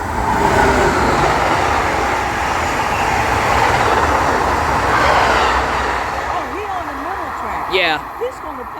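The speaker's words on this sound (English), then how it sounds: "It's a marc train. Here come another one." A MARC commuter train rolls past at close range, a loud sustained rumble and rail clatter filling the scene while voices talk over it, fading slightly near the end.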